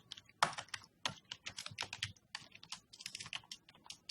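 A computer keyboard is typed on in quick, uneven bursts of sharp clicks and taps, recorded close and quiet with short pauses between keystroke clusters.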